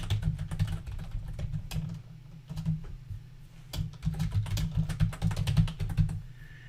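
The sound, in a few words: typing on a computer keyboard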